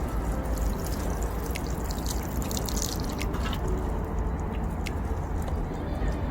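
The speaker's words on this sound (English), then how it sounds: "planted it, and then you just water them" Water pours steadily onto newly planted potted plants, a continuous close splashing and trickling into the soil, with scattered drips and no voices.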